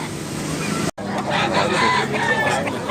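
A rooster at a gamefowl sellers' spot in Cebu crows close by, one drawn-out call rising over steady background noise after a brief cut.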